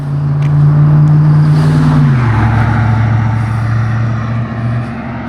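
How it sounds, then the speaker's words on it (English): A loud truck rumbles past close by, its deep engine drone holding steady and then dropping in pitch as it moves away. "Loud truck."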